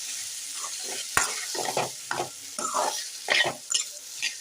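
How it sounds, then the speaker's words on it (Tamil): Potato masala is stirred in a frying pan, with bursts of scraping and shuffling over a soft sizzle, plus a sharp clink near the start and no voices. "கிண்டி வச்சுக்கலாம்."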